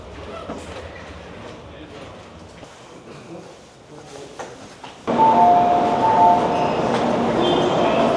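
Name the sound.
bullet train arriving at station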